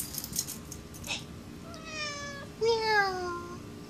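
A house cat gives two rising, drawn-out meows close by, the second louder, after some soft rustling.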